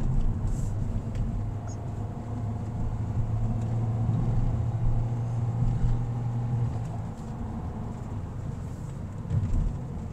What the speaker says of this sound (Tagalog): half throttle on the gas pedal or throttle pedal.